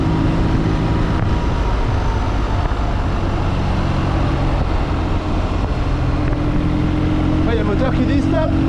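A BMW R nineT motorcycle engine drones loudly and continuously up close, with a steady roar that holds through the whole stretch and a brief change near the end.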